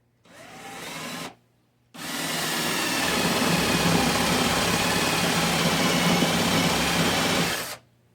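Power drill boring a half-inch hole into a wooden pumpkin in a woodworking shop, a short burst followed by a steady, loud whirring run of about six seconds, with no talking.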